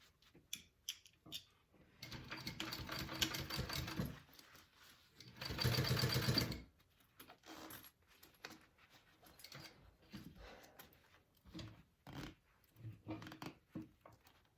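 A sewing machine stitches a bowler bag in two sustained runs, each a few seconds long, close and steady. Someone talks quietly in the gaps between them.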